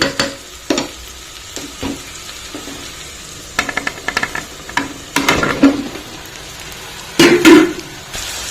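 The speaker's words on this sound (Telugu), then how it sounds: "ఇప్పుడు దీనిలో మనము సొరకాయ పీసెస్ యాడ్ చేసేసుకుందాం" Bottle gourd pieces fry and get stirred in a pan for a gourd curry, with a low steady sizzle broken by scraping stirs, the loudest strokes near the end, close by and with no voices.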